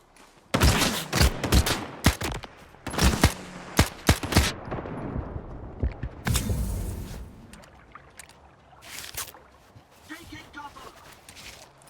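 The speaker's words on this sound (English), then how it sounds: "getting shot at from the other side as well." Repeated gunfire from a firefight in the video game S.T.A.L.K.E.R. 2: Heart of Chornobyl, loud sharp bursts and single shots arriving in irregular clusters, with a voice briefly talking between them.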